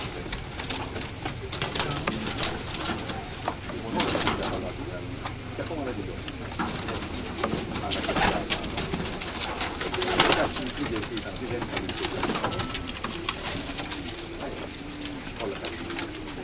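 A flock of pigeons coos in low, overlapping burbling calls with occasional wing flaps, fairly close, while people talk over them throughout.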